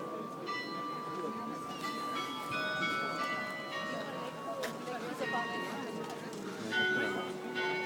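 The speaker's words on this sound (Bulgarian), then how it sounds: "Някой е хванал камбаната" Bells ring on and off in Vienna, their tones hanging over a steady murmur of voices and crowd noise.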